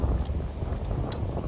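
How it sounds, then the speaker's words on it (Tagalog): Strong wind gusting across an open golf course, a low continuous rumble buffeting the microphone with no voices. "ang lakas ng hangin because of Pepito"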